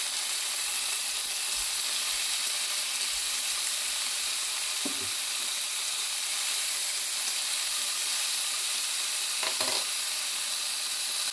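Meat rolls sizzle and hiss steadily in a hot frying pan as they are browned on all sides, a loud continuous crackle broken by a couple of brief clatters from turning them.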